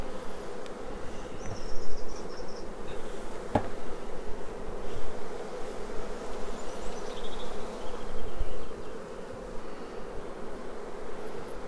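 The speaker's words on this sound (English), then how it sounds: "I'm shaking the bees off, so that way I make sure the queen isn't lifted above the excluder" A dense, even drone of honeybees swarms around an open hive while frames are shaken off and moved, with one brief knock partway through.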